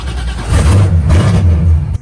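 A car engine fires up and revs twice, loud and close, its deep rumble swelling and easing before cutting off abruptly.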